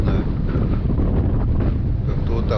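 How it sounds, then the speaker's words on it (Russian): Damp, raw wind gusting over a lake, a steady broadband rush buffeting the microphone throughout, loud and close with no break. "Сырой ветер такой."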